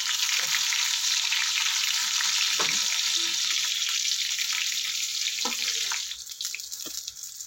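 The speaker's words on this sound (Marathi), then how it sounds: "आता आपण ही बाकीची सगळी वांगी अशीच परतून घ्यायची दोन्ही साईड" Stuffed masala eggplants fry in hot oil, a loud steady sizzle filling the whole clip, with a few soft clinks and stirring knocks and the hiss easing slightly near the end.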